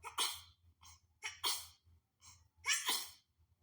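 Three sharp sneezes spaced about a second apart, each with a quick intake of breath before it, close to the microphone in a quiet room.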